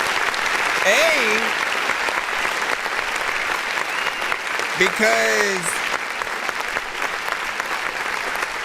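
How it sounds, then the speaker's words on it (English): An audience at a live music review and feedback session for underground artists gives a steady round of applause, with a voice speaking over it. "Let's give her a round of applause."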